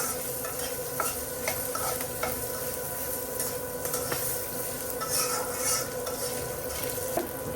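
Cumin, bay leaves and dried chillies sizzle steadily in hot oil, with a utensil scraping and stirring the pan in soft repeated clicks throughout.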